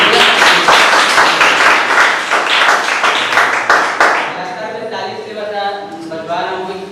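A crowd claps loudly and steadily for several seconds, the applause thinning out and fading into murmured voices and room noise.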